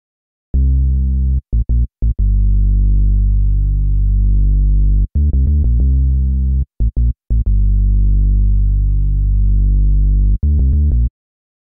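A synthesized bass loop at 91 BPM in C Dorian plays loud and alone, sustained notes broken by short staccato stabs in a repeating phrase.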